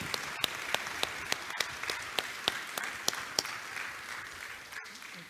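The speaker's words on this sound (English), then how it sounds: "Let's just clap for Brian and Bill." Church congregation claps for volunteers, a moderate crowd applause with a few sharp, distinct claps standing out at a steady rhythm, fading gradually toward the end.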